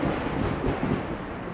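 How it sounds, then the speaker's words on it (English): Thunder rumbles low and steady through a stormy moment, a broad continuous roll with faint hints of rain, loud and filling the whole stretch without any voices. "Thunder."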